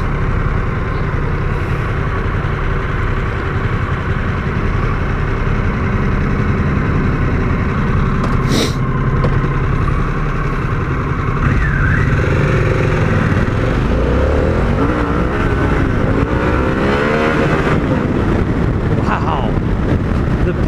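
A 2021 Harley-Davidson Pan America 1250 adventure motorcycle is ridden at speed, its engine droning under heavy wind buffeting with a rising pull partway through, while a rider talks over it.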